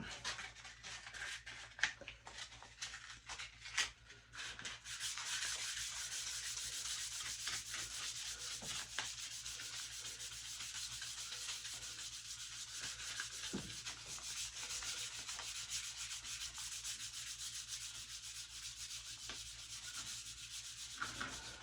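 Sealed gun stock being wet sanded by hand with 600 grit sandpaper, working with the grain. Soft scattered rubs and taps at first, then a long, steady, close scrubbing hiss with no voices.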